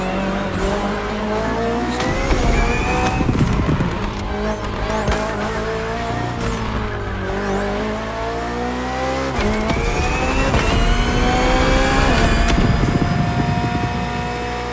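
BMW hybrid V8 race car in The Crew Motorfest, engine roaring loud and steady with rising and falling revs through gear shifts, tire squeal and skids mixed in across the whole stretch.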